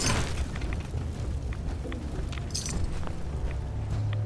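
A blast in Fallout 4 with the Horizon 1.8 mod in Desolation Mode: a loud, dense explosive roar that fills the whole stretch and rumbles steadily with little letup, and no voices over it.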